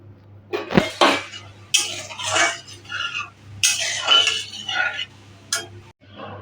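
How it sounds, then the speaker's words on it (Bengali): Moong dal with bitter gourd and bottle gourd is stirred in a metal pot, giving scraping ladle strokes and clinks in uneven bursts, close and moderately loud, over a steady low hum. "দিয়ে ভালো করে নাড়িয়ে নিচ্ছি এবার পরিমাণ মতো জল দিয়ে দিচ্ছি"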